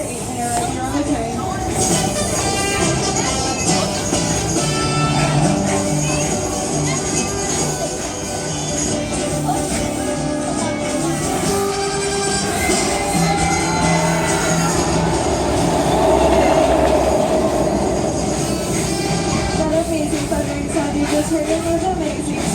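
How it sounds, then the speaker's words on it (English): An amusement park train ride rolls steadily along its rails, a continuous rumbling clatter with squealing wheel tones close at hand, while people talk faintly throughout. "enjoy your 8-minute ride here on the train"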